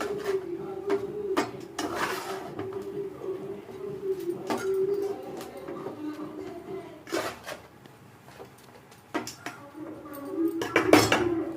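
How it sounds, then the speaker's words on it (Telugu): Hot semiya upma being mixed firmly by hand in a metal vessel, with repeated clinks and scrapes of utensils against the pot, some sharp knocks, close and moderately loud, no talking. "గట్టిగా కలుపుతున్నాను"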